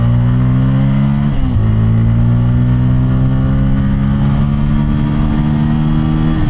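A Bajaj Pulsar N160 motorcycle rides through city traffic, its engine droning steadily up close and dipping briefly as the rider shifts gears before it pulls again.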